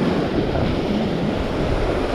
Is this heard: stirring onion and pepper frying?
no